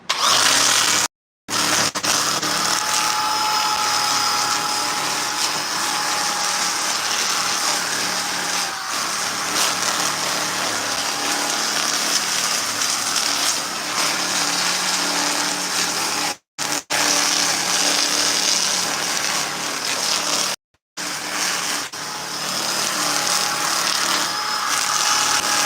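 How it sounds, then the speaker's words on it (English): Flap sander grinding over chainsaw-carved wood, a loud continuous whirring and scraping that runs nearly the whole time, broken by three brief stops. "we're gonna hit this with a flap sander, burn it"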